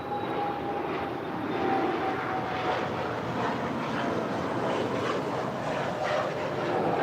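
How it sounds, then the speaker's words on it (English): A Bombardier Challenger 350 business jet on its takeoff run at LAX, a steady, broad engine roar heard from some distance with a faint high whine over it, holding fairly even throughout. "And that is a Bombardier Challenger 350, destination unknown."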